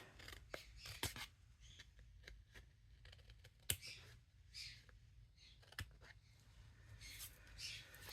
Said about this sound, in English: I am going to come in with scissors